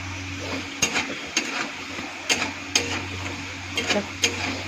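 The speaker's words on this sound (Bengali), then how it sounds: "আলুটা সুন্দর লাল লাল ভাজা হয়ে গেছে" Reddened potatoes sizzle in a frying pan as a utensil scrapes and knocks against it in periodic strokes, close and clear over a constant low hum.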